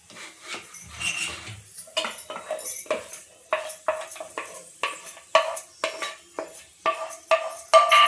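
Raisins for rava kesari going into a pan and being stirred, a close series of irregular metallic clinks and scrapes of a spoon against the pan, with brief quiet gaps between strokes.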